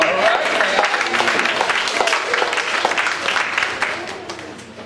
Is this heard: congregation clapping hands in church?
yes